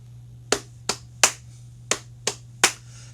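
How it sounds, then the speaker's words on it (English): A run of six sharp, evenly spaced body-percussion hits, leg slaps and hand claps in a rhythmic pattern, close and crisp over a low steady hum, with no talking. "So leg, leg, clap, leg, leg, clap."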